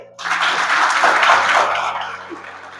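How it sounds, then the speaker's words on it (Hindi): Audience applause at a university retirement farewell for a former history department head in Bihar, a loud sustained burst of many hands that starts abruptly and fades slightly toward the end. "समर्थन कीजिए तालियों से।"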